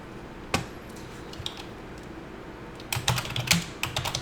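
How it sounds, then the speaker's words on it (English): Typing on a computer keyboard while coding in Java, a single tap then a quick burst of clattering keystrokes, close and clear over a faint background hum. "I'm just going to type in"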